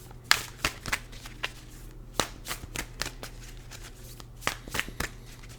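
Tarot cards are shuffled by hand in a quiet room, a series of sharp riffling bursts and soft slaps at an irregular rhythm, close and distinct over a low steady hum.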